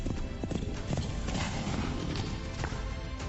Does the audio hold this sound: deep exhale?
no